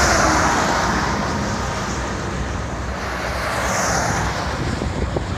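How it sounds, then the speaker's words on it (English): Steady wind roar buffets the microphone while cycling along a road in a crossing headwind between Pueblo, Colorado and Lathrop State Park, a broad continuous rush with passing road noise and no speech. "it's a headwind from the side, so crossing headwind, not super hard, just enough to slow you down"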